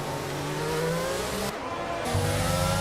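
Formula 1 cars race in a video game at Silverstone, a McLaren and an Aston Martin among them, their engines droning and shifting pitch continuously at close range with a brief dip, then a rising rev.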